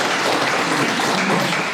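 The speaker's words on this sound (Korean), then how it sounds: "박수 한번 보내주세요" An audience at a labour union event applauds in a loud, dense burst of clapping that stays even for its short length, with no voices over it.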